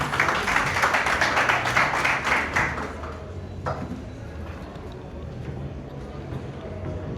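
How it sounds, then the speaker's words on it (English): Applause from attendees at a youth union inauguration ceremony in Rwanda, a brief burst of clapping for about three seconds that fades out, followed by quieter room noise with a faint knock. "Let's give a round of applause"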